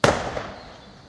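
Explosions burst in the ARK Omega mod video game: one sharp blast up close, followed by a rumbling tail that fades over about a second, with no talk.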